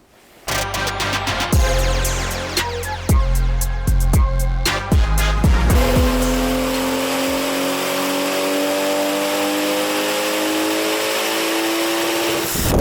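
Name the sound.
B58-swapped BMW E46 Touring engine revving at full throttle on dyno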